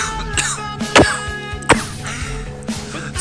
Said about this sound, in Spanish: Tengo algo de tos.